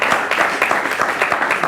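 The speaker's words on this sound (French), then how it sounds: "On applaudit aussi." Audience at a school quiz competition applauding, continuous dense clapping from a crowd in a hall, steady and fairly loud for the whole brief moment.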